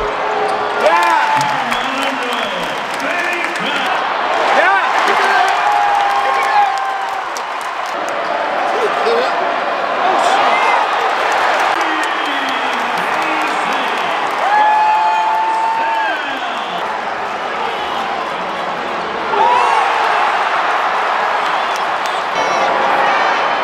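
Arena crowd at an NC State vs UNC basketball game in the 2024 ACC championship, a steady loud roar of voices and cheers with squeaking shoes and a bouncing ball, talk mixed in throughout.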